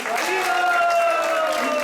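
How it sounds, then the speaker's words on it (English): An audience applauds at a Sunday temple gathering at ISKCON Atlanta, a short, even burst of clapping with a sustained tonal sound and voices running through it. "Let's give him a big round of applause"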